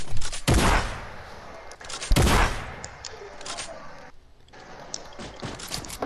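Two loud shotgun blasts from a video game, fired as a quick double pump, each a sharp broadband boom with a decaying tail, followed by softer mechanical clicks and game noise.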